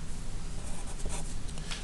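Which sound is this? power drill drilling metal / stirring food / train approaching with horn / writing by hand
writing by hand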